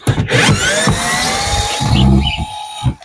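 A power screwdriver whirs steadily, driving screws into battens while an aviary for parrots is being renovated; the motor's whine is close and loud for about three seconds with no talking.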